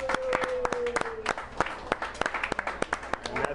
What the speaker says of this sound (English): give John, Aaron Ward, and Devin Shea a big hand